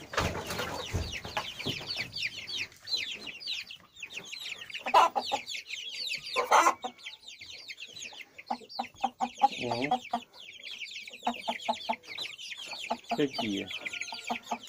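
Chickens in a coop clucking and squawking busily, several birds close by with irregular bursts, while a person speaks briefly among them.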